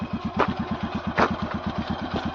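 A motorcycle engine idles nearby with a steady, fast, even thumping pulse, loud and close, with no other sounds.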